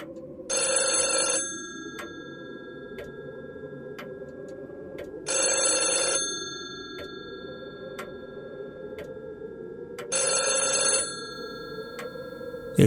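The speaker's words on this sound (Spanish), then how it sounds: "En ese momento, el teléfono comenzó a sonar de nuevo." A house telephone's bell rings in three separate bursts roughly four seconds apart, each clear and fairly loud over a steady low hum, with no voices present.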